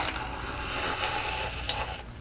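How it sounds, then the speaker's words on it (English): An electric milk frother whirs steadily while mixing a drink, a continuous buzzy motor hum with a brief sharper rattle near the end, close and moderately quiet. "I'm going to grab my milk frother"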